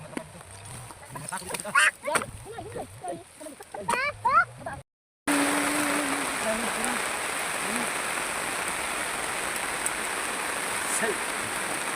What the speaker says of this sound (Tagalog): So it's raining, guys.